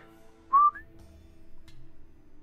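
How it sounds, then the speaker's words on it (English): A single short note whistled into a microphone rises then holds steady, close and loud, followed by quiet low rumbling. "I was told I should never whistle into a mic."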